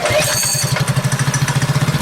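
A Predator 212cc engine on a modified KT196 go kart, cold and tricky, fires up: a short rough crank gives way to a steady, fast thudding beat, close and loud.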